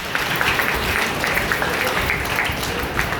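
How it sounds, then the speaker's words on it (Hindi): An audience at a school gathering breaks into a round of clapping, a dense, steady patter of many hands that carries evenly from start to finish without talk over it. "जोरदार ताली।"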